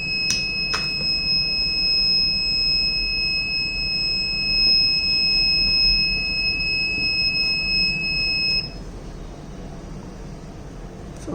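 Raspberry Pi smart door lock buzzer sounding steady and shrill for about eight seconds on access denial, a continuous high electronic tone that stops abruptly, over a low background hiss.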